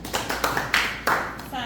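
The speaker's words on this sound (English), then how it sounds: "Give her a clap." A small classroom group claps briefly, a few distinct close hand claps in an uneven rhythm rather than a full wash, with voices in the room under and around them.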